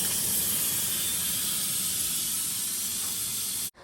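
Steady, loud steam hissing from a pressure cooker holding cooked chicken just after it finishes, a continuous bright whoosh that runs unbroken for several seconds and then cuts off abruptly, with no voices.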